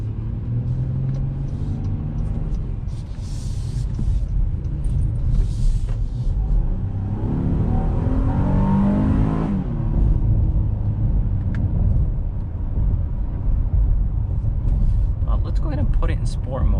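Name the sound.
2021 Honda Pilot SUV engine accelerating while driving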